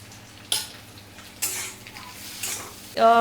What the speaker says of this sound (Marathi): बटाटा पण ह्यामध्ये व्यवस्थित असा परतून घ्यायचा.